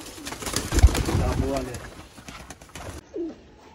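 Sialkoti pigeons coo in soft, throaty bursts, close by, over a voice talking through most of the stretch, with one last coo alone near the end.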